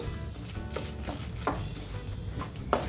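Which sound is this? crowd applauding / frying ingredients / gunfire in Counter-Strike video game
frying ingredients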